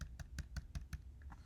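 Quick, regular keystrokes on a computer keyboard, about six clicks evenly spaced, close and fairly quiet with no talking.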